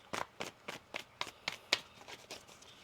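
A deck of tarot cards is shuffled in a quick, even rhythm of about ten soft riffling bursts, close and fairly quiet, with no voices.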